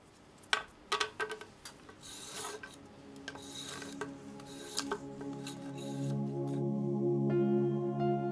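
A craftsman shaves bamboo strips for traditional Edo sudare blinds with a homemade thin-bladed knife made from a hacksaw blade, giving a series of close dry scraping strokes, some sharp and distinct, followed by a lingering resonant hum.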